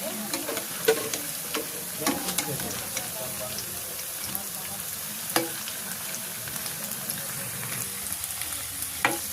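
Water taro stems fry in a pan in a village kitchen as they are flipped, steady sizzling broken by sharp stirring and scraping clicks, close and moderately loud, with a voice talking now and then.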